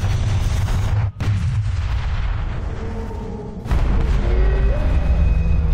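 Continuous gunfire in the game Sanctum 2, a loud, dense stream of booming shots with one brief dropout, then the volley swells again with heavy impacts.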